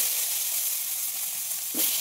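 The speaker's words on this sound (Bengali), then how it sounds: "বেগুনগুলো ভালো করে ভেজে নেব" Eggplant pieces frying in oil for a rohu fish curry, giving a steady, even sizzle with one brief stir or clink near the end and no talk.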